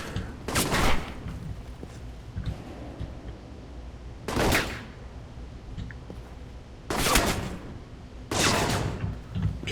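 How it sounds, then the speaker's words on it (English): Bursts of enemy gunfire in the video game Alpha Protocol, four loud, sharp volleys at irregular intervals, each cracking out over a low background din. "Or no, somebody's still shooting at me"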